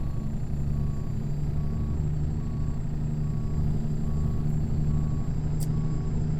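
A truck reverses with its engine rumbling low and steady while a reversing alarm beeps at a regular, even pace over it, with no talking.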